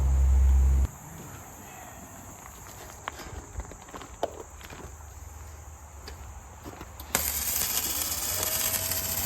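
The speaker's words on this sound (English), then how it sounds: "We are using our MIG250 from Arccaptain." An Arccaptain MIG250 MIG welder lays beads on a rear vehicle bumper in a shop. It gives a steady crackling hiss with scattered sharp clicks and pops, and the crackle turns louder and harsher near the end.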